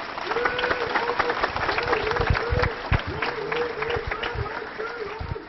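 At a funeral ceremony ending in burial at Ulus Cemetery, a crowd claps steadily while voices chant slogans in a repeating rhythm, all close and dense.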